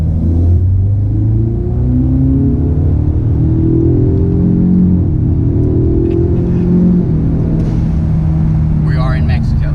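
A tuned 2018 Mustang EcoBoost with a 10-speed automatic runs steadily with rising and falling revs, the pitch climbing then dropping as it shifts into third, heard from inside the car on a back road.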